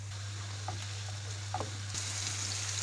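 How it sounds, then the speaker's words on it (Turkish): Mushrooms going into a pan of hot salted oil for a creamy mushroom pasta, giving a soft steady sizzle with a few light clicks and stirring sounds, fairly quiet and close. "İçerisine mantarlarımızı da ilave ediyoruz arkadaşlar."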